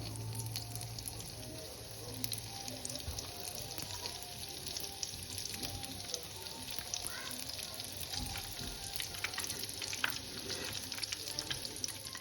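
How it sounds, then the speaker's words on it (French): Donuts shaped on skewers frying in hot oil give a steady, close crackling sizzle with fine popping throughout, continuous and even in level with no voices. "on les a mis en forme de brochette et on les met dans l'huile comme ça"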